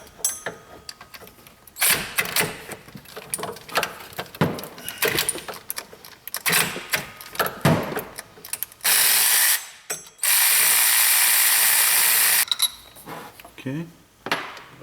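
Rapid ratchet clicking from a socket wrench working 12 mm bolts on a Honda 3.5 V6 during timing belt service, in several bursts with metallic tool clatter and a couple of loud sustained hissing blasts.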